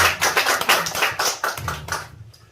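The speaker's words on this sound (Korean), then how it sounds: "우리 하나님께 영광의 감사 박수를 드리겠습니다." A congregation claps at a prayer meeting held at a prayer retreat near Daecheong Dam, with dense, lively hand clapping that carries on steadily for about two seconds before ending abruptly.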